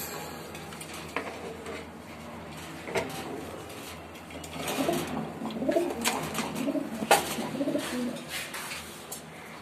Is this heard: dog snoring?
no